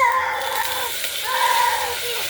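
Mung dal fries with tempering spices in a pan, giving a loud, continuous sizzling hiss close by, with faint tonal sounds drifting over it.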